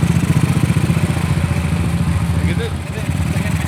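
A Honda CB motorcycle is revved hard with the throttle opened, giving a loud, rough, pulsing low engine note close by, while someone talks over it.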